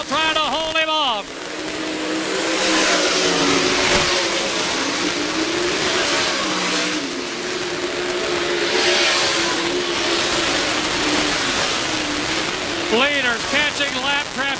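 Race cars roar around the State Fair Speedway dirt track, a dense, continuous engine drone with a sweeping pass-by rev near the start and another at the end, under a commentator's voice.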